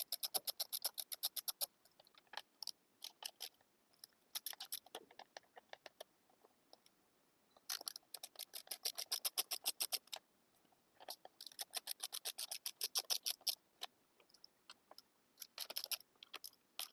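A ratchet works the six skid plate bolts loose on an Ultra Bee electric dirt bike, giving rapid bursts of crisp clicking that stop and restart in irregular runs, close up and with no voices.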